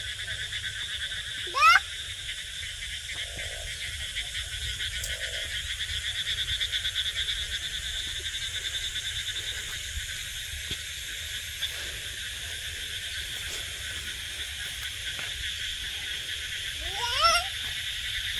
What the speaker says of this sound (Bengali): ব্যাঙের ডাক খালি।